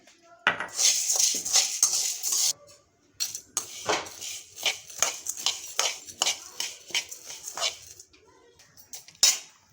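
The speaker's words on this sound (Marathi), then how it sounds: "डाळी भाजून घेऊयात।" Lentils dry-roasted in a pan for thalipeeth bhajani flour, with repeated close scraping and clinking of a utensil against the metal pan in an irregular rhythm.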